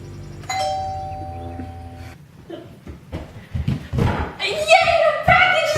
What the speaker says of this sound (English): So whenever I hear the doorbell, something like this happens.